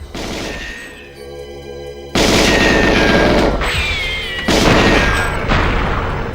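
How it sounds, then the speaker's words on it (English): Gunfire in a GoldenEye remake as the player shoots boxes, loud close bursts of rapid shots in several bouts, with sharp impacts, no talking. "Some of these boxes tend to give you ammo, so that's why I'm shooting them."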